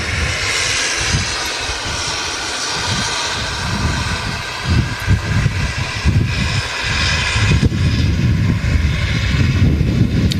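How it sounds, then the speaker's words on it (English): A Pegasus Airbus A320neo with large engines comes in to land on runway 23R at Manchester Airport after rain, its loud, steady jet roar growing rougher and rumbling as it nears. "Pegasus A320 Neo, huge engines."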